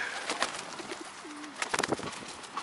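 Pigeons on a pier cooing in soft, low, rolling calls, with a few brief chirps and flutters, fairly close and quiet against light ambient noise.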